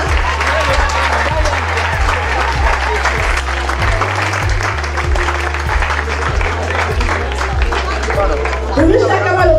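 An audience applauds after a music performance, sustained dense clapping and crowd noise continuing throughout over a steady rhythmic low bass beat from the sound system.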